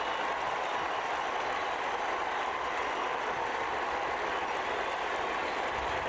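A noisy stadium crowd at a 1987 college football game between Miami and Florida State keeps up a steady, dense roar with no breaks, heard alone without commentary.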